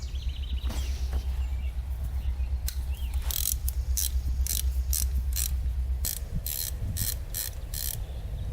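A ratchet wrench clicks in quick bursts while loosening the cam chain tensioner bolts on a Honda 400ex engine, up close over a low steady hum.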